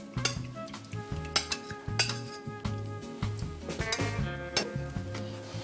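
Metal utensils scrape and clink against a pot as pieces of cooked meat are lifted out, with repeated close knocks and stirring sounds.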